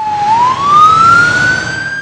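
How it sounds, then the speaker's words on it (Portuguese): A loud, close ambulance siren holds one steady tone that rises slowly in pitch, continuous throughout with no pauses and no voices. "Um som pode ser bem longo, como a sirene de uma ambulância"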